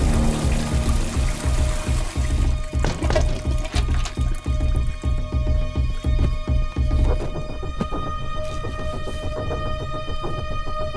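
A toilet flushing in an office washroom, a steady rushing pour of water with throbbing gurgles that gradually tapers into a thinner trickle and hum, heard close with no talking.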